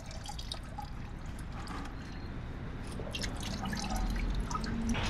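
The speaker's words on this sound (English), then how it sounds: "Let's move the bucket over here because it's gonna drain from over here as well." Engine coolant drains from a Nissan Xterra radiator into a bucket, a faint steady trickle with scattered drips that grows slightly louder toward the end.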